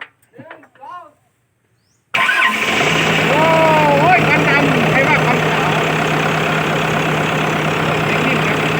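A voice speaks briefly, then a freshly assembled big diesel engine cranks and roars to life, running loud and steady with a rising turbo whistle.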